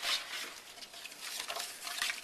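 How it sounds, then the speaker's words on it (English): A pot of meatball soup with onions being stirred, giving a soft continuous swishing and light scraping with faint bubbling, fairly quiet and steady with no talking. "And then I'm going to stir this up."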